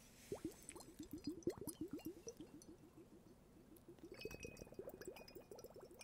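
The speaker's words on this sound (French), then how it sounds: "On entend le glouglou. C'est très très apaisant." Liquid gurgling and glugging from a magic bubbling hourglass toy, a rapid series of soft close-up glugs that slows and thins out toward the end, with no talking.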